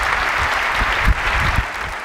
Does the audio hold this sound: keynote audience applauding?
yes